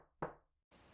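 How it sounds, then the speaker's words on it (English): One sharp knock strikes a door, faint and close, then fades into quiet before a soft, steady hiss of background noise. "there were several knocks on her door"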